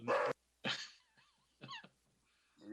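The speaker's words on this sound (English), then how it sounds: "Sounds like my dog barking." A dog barks in short bursts, three loud barks spaced across a couple of seconds, nearby and otherwise alone in a quiet room during a town board meeting.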